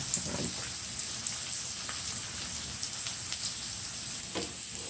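Onion and garlic fry in a pan, making a continuous soft hiss and crackle like light rain, steady and close with no voices.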